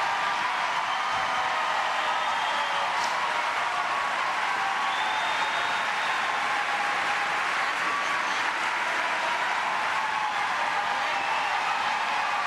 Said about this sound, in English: And this crowd, a standing ovation.